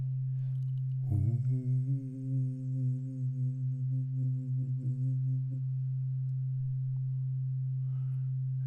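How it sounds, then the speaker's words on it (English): A steady synthesizer oscillator tone from the Drambo groovebox app drones loud and constant throughout, with a brief pitched, buzzing layer added over it for a few seconds before returning to the plain hum. "So an oscillator creates a sound. And there it is, and you can hear it straight away."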